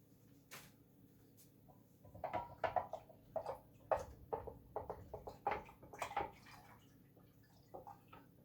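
Cherry juice glugs and splashes into a container for cherry-limeade mead, in uneven bursts of liquid spatter and drips that stop and start for several seconds, close up, with no talking.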